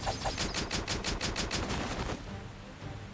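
A volley of rifle fire from soldiers shooting on command in the role-playing game Octopath Traveler, a quick rattling burst of repeated shots lasting about two seconds that then fades into a low lingering rumble, fairly quiet overall.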